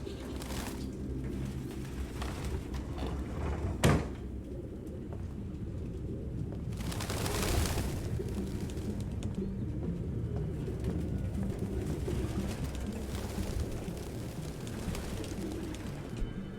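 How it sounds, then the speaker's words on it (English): Pigeons coo in a game scene from Detroit: Become Human, soft repeated low calls over a steady ambient bed, with one brief sharp knock partway through. "Pigeons galore."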